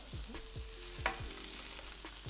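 Shallots fry for risotto in a pan, a steady close sizzle with a few light scrapes and stirs over it, no voices.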